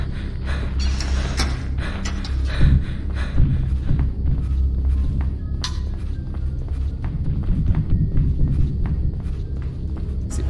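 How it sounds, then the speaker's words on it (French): Heavy, rhythmic footsteps thud through a tense horror game, steady and close against a low rumbling ambience. "Ces bruits de pas de merde!"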